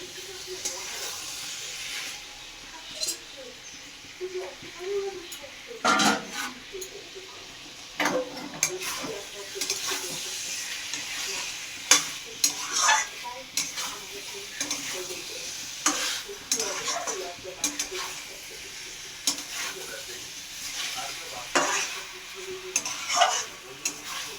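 Fried potato, pointed gourd and beans are stir-fried in a spice paste in oil with a steady sizzle and hiss, broken by frequent spatula scrapes and knocks against the pan. It is close and continuous.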